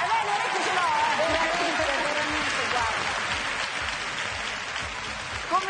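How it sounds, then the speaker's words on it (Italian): Television talent show audience applauds during a blind audition, a sustained wash of clapping with a voice talking over it and a faint melodic tone beneath. "fate un applauso"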